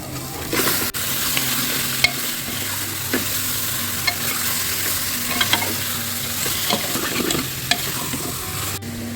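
Chicken pieces sizzle steadily in a hot pan for a chicken stew with green chillies, with regular scraping strokes of a spoon stirring them throughout, close and fairly loud with no talking.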